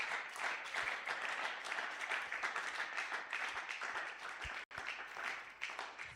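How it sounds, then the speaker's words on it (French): A church congregation at a Sunday praise and thanksgiving service applauds loudly and continuously, a dense roar of many hands clapping together throughout. "Est-ce que tu peux acclamer très fort pour Jésus? Acclame encore, acclame"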